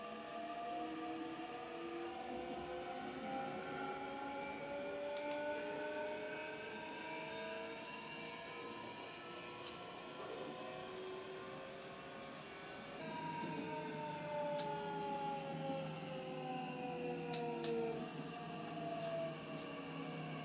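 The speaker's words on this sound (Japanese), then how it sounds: "走行音を聞くために M 車に来ました。" A Meitetsu 9500 series electric train runs with a quiet, steady rumble as layered hybrid SiC VVVF inverter motor tones glide smoothly in pitch, heard from inside a motor car.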